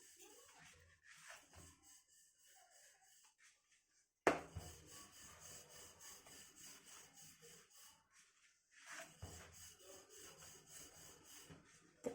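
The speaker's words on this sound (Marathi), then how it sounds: "तर अशा पद्धतीने आपला हा पराठा लाटून झालेला आहे" A rolling pin working stuffed aloo palak paratha dough on a board, rhythmic soft rubbing strokes in bursts with short pauses, close and quiet, no talk.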